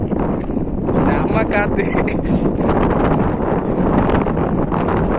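Heavy wind roars and buffets the microphone continuously, with a voice speaking briefly underneath the gusts.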